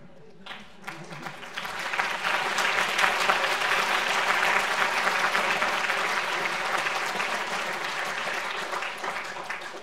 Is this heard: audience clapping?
yes